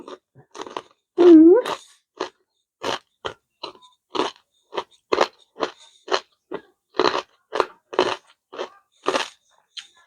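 Crispy pork cracklings are eaten up close. Loud, sharp crunches repeat in a steady chewing rhythm with short quiet gaps between bites.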